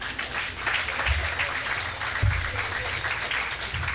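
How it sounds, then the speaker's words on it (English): An audience at a university center's opening reception and dedication applauds steadily, a full and continuous patter of many hands with a few louder thumps underneath, lasting about four seconds. "give them a round of applause"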